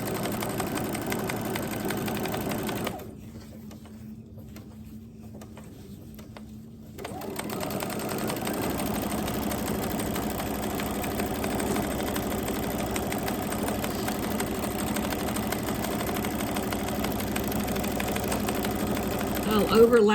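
A sewing machine stitches fabric down on a February door hanger, humming steadily and close, then stops for a few seconds and starts again for a long continuous run.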